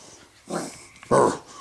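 A dog named Sophie gives two short, low growls at a hand puppet, close by and soft, with a brief breathy pause between them.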